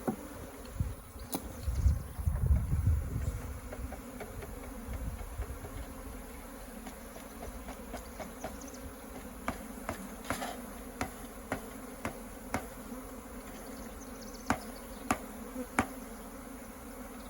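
Bees buzz in a low, swelling drone near the start while a package of bees is installed into a hive, then thin out to faint scattered hums amid occasional sharp taps and knocks.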